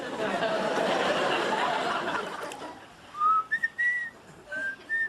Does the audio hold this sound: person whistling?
yes